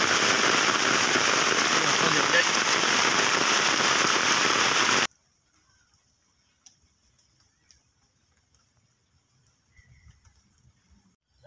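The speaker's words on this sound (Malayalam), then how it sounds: "അടിപൊളി മഴയാണ്. നല്ല പൂക്കുറ്റി മഴ." Heavy rain pours down in a dense, loud, continuous hiss for about five seconds, then cuts off abruptly into near silence broken only by faint scattered taps and rustles.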